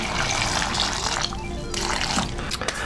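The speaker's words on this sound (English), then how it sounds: "And then I put in apple cider vinegar." Apple cider vinegar poured onto fava beans in a marinade, a continuous close liquid splashing and trickling that stays loud and steady with no talking.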